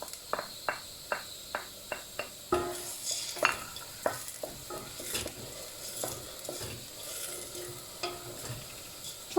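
Onions and peppers sizzle in a hot pan while a utensil scrapes and stirs in a run of sharp taps, with faint crickets behind.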